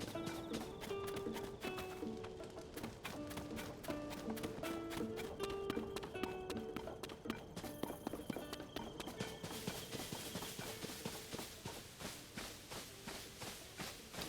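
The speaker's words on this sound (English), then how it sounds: "Oh my god, horses do exist." Horse hooves clip-clop in a steady rhythm in the video game Tears of the Kingdom, with the pace quickening into a run partway through, accompanied by game music in the background.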